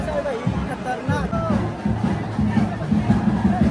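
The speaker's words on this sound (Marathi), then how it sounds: "आणि जल्लोष आहे बाई खतरनाक." Jubilant crowd celebrating at the Chintamani Ganpati darshan: a dense, lively hubbub of many voices, with cheers and shouts rising and falling throughout and a nearby voice talking over the din.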